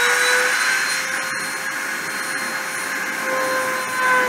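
Machining spindle running at 30,000 RPM during a deposition process: a steady high-pitched whine with a constant airy roar, close and continuous, holding level throughout.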